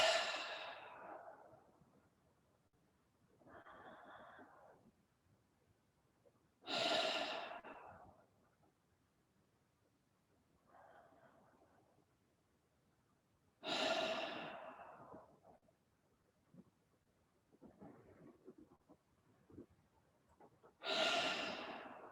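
A breathing workshop group draws slow breaths in and out together at an unhurried tempo: soft, airy exhales repeating every seven seconds or so, with quieter inhales between, close and calm with no talking.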